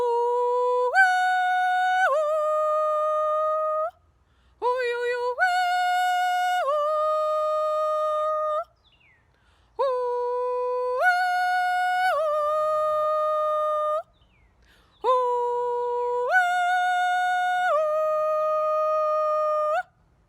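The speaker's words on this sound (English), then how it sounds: "Another type of functional holler you could use would be to call workers in from the field for a meal." Four loud, clear sung hollers calling workers in from the field for a meal, each a long sustained call stepping between a few pitches with yodel-like breaks, separated by brief pauses.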